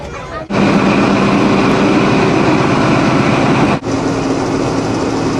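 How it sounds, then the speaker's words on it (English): A passenger train on the Sydney to Bathurst line near Lithgow rumbles loudly and continuously from inside the carriage, with a steady engine drone and tonal hum, briefly dipping at the start and again partway through. "Oh look, train."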